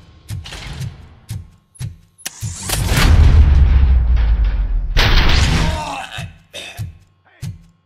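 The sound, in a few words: gunshots in a video game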